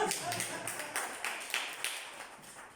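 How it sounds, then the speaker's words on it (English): A church congregation claps at a Christian ministry gathering: a series of sharp, close claps with an uneven rhythm, partly under a speaking voice, fading toward the end. "Please clap for yourselves."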